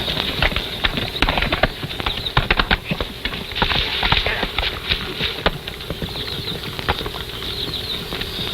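Several horses galloping away, hooves clip-clopping in quick, uneven bursts, loud and close, with the rhythm thinning as they ride off in an old western setting.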